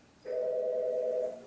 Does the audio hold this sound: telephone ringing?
yes